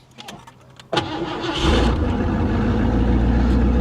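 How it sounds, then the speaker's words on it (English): A 1983 Mercury Cougar cranks with a few faint clicks, then its engine catches with a jolt and settles into a loud, steady, rumbling idle close by, with no voices. "Let's try to crank it, see what it does"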